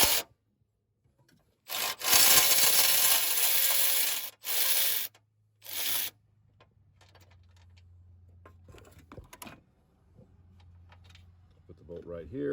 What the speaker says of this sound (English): we can go ahead and remove the bolt that holds the horn in position